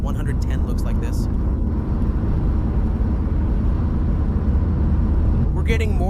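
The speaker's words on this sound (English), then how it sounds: "We're getting more engine noise," A Renault Twingo SCe 65 hp cruises at 110 km/h in fifth gear on thin tires, its engine giving a steady loud drone with light wind noise, while someone talks over it.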